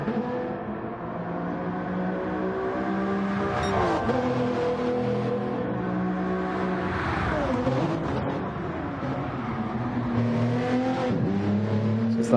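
Race car engines in a GT racing video game, including a Supra and a Lamborghini, revving and shifting through gears with rising and falling pitch, steady and fairly loud throughout.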